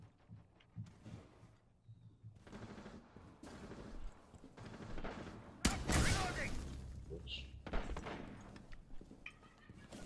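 Rainbow Six Siege gunfire, with bursts of shots and one loud blast near the middle, mixed with game sounds while players talk over it.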